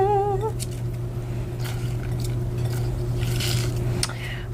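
Fresh spinach crammed into a blender, with soft rustling, squishing and light plastic knocks over a steady background hum, moderately close.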